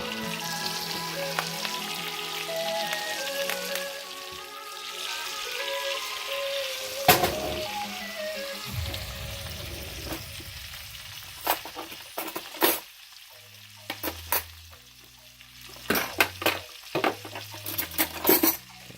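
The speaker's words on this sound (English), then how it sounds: "let's get our shallots going in here too" Shallots and fresh rosemary sizzle in butter in a pan, a steady close frying hiss broken by spoon stirs, scrapes and clinks against the pan, growing busier toward the end.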